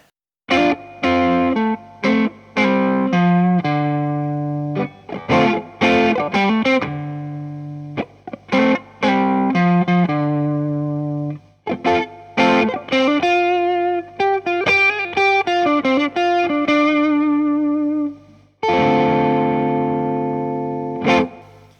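Electric guitar, a 1990 Strat Plus through a JHS Bonsai overdrive pedal, plays distorted chords and riffs in short bursts with pauses, loud and crunchy with sustained notes ringing out.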